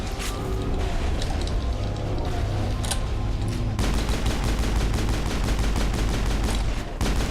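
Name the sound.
gunfire in Mass Effect video game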